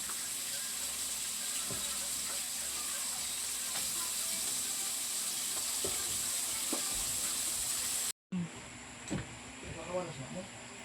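Quiet, steady sizzle of food frying in a pan, with faint clinks and a brief cut near the end, and soft voices in the background.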